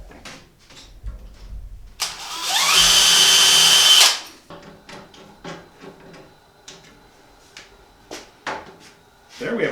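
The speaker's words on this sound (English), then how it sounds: "So I'm going to drill that." A power drill bores screw holes for a round shelf rod in a household fix, one loud close whirring burst of about two seconds, surrounded by clicks, handling noises and tool clatter.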